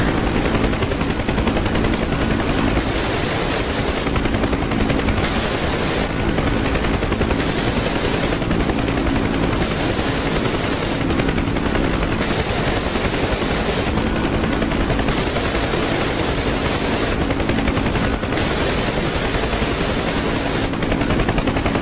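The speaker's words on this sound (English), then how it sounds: "Taking some fire." In the DCS UH-1 Huey helicopter game, loud machine-gun fire rattles in long pulsing bursts over a constant rotor and engine drone, sustained and close for the whole stretch.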